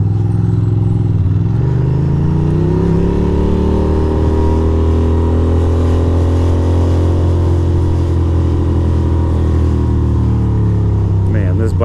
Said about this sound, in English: Man, this bike is a fucking weapon.